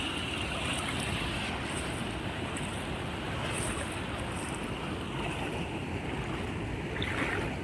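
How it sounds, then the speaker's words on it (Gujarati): Deep river water rushing strongly past, heard outdoors during a pilgrimage walk as a loud, continuous roar with some wind buffeting the microphone, and no one speaking. "મિત્રો જો પાણી કેવું જોરદાર હાલી જાય છે."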